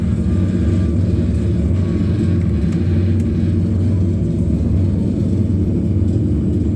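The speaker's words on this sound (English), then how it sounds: "And reverse thrusters are up." An aircraft landing with reverse thrusters engaged gives a loud, steady low roar and rumble that fills the whole stretch without letting up.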